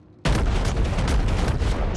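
Naval gunfire in a video game battle, salvos aimed at the battleship New Mexico: a sudden loud onset of booming shots that roll into a sustained, dense barrage of overlapping blasts.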